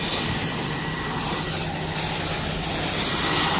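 A pressure washer sprays a vinyl fence in a steady, continuous hiss, loud and close, rinsing without pause and with no talk.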